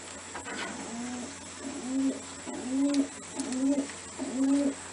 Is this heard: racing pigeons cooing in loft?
yes